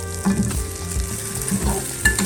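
Beef testicle steak sizzles in butter in a pan, a steady close crackle with scattered louder pops and stirring scrapes running throughout, no voices.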